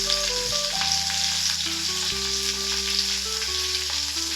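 Sliced onions with a pinch of salt sizzle steadily in a hot pan, a constant close hiss with light stirring, while music plays over the top.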